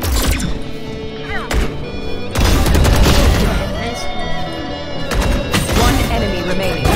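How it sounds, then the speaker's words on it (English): A flashbang goes off during a round of the game Valorant, with dense bangs and crashing impacts layered over game sounds and announcer voices. "Flashbang."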